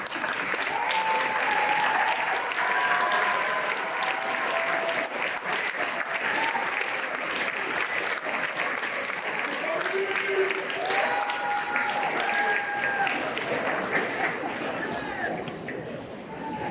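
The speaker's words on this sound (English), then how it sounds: "join me in a round of applause to honor those who have supported you" Graduates and faculty at a winter pharmacy college commencement applaud in a large hall. The clapping is dense and sustained for about seventeen seconds, with crowd chatter and voices mixed underneath.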